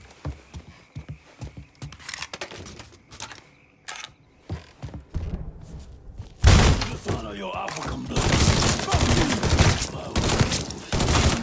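Gunfire in the Mafia 3 video game: scattered shots and thuds give way after a few seconds to a loud, dense burst of sustained firing, with game voices talking and shouting over it.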